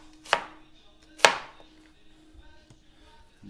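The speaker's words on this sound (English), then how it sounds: "First thing we're going to do is we're going to thinly chop an onion." Knife chopping a quarter of an onion thinly on a cutting board, two crisp distinct chops followed by a few faint taps, close and otherwise quiet.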